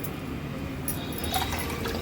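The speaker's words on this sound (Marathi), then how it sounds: "एक वाटी तांदूळ होते त्यामुळे दोन वाटी आपण पाणी यूज करणार आहोत" Water poured from a bowl into washed rice for cooking makes a steady, close liquid wash that carries evenly for two seconds, with no speech.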